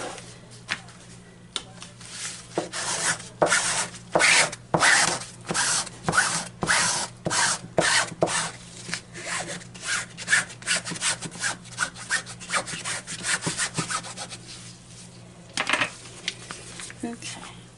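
Soap batter being scraped out of a container for a pumpkin spice cold process soap, heard as a run of close, rhythmic rasping scrape strokes in quick bursts with brief pauses, no talking over it.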